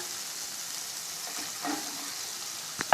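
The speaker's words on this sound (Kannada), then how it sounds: "ಇದು ಈಗ 1 ನಿಮಿಷ ಫ್ರೈ ಆಗಬೇಕು" Gobi manchurian sizzles steadily in a pan with chopped capsicum, a soft continuous frying hiss with a brief stir near the end and a sharp clink at the close.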